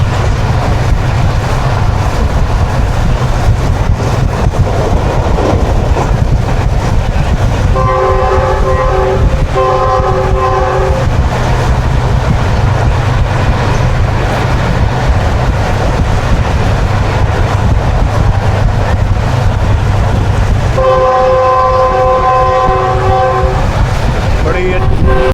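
Khushhal Khan Khatak Express at the Akora Khattak railway station, a loud rolling train rumble throughout, with two sustained multi-tone horn blasts, one early and one near the end, and voices faintly underneath.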